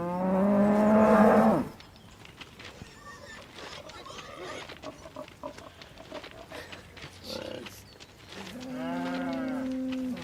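Cattle in the Thomas and Friends: Wonders of Sodor video game give two loud, drawn-out moos, one at the start and another near the end, with quieter game sounds and faint background noise in between.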